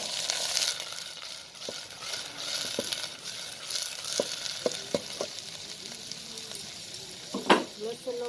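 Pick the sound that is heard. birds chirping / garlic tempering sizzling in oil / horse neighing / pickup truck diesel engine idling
garlic tempering sizzling in oil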